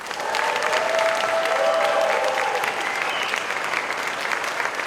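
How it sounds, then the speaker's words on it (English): An awards ceremony audience applauding loudly and steadily, dense clapping filling the room throughout, with a few cheers mixed in. "I'd like to hear a round of applause"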